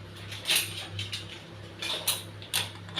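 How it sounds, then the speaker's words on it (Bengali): A metal pressure cooker lid is fitted onto the pot with a few light clinks and scrapes, small metallic taps scattered over a low steady hum, close but quiet. "এবার কুকারের ঢাকাটা দিয়ে দেব"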